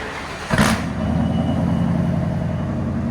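Quad-cab Ford F-350 with a mildly built 460 V8, headers and Flowmaster Outlaw mufflers, giving a sharp throttle blip that settles into a steady, loud, deep exhaust drone close by.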